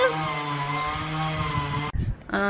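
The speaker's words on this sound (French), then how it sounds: "la tronçonneuse s'est remise en route" A chainsaw drones loudly and steadily, then briefly cuts out with a sputter before roaring back up, in Montenegro.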